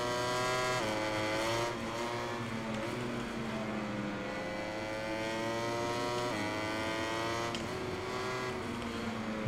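A Ducati racing motorcycle in the MotoGP 21 video game screams at high revs, its engine note climbing and dropping through several gear changes, loud and continuous with no talk.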